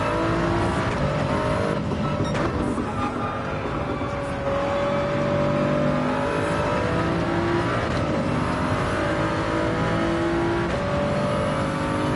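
Toyota Supra race car in Gran Turismo 7 at the Red Bull Ring, its engine droning steadily and revving through gear changes amid other racing cars, loud and continuous throughout.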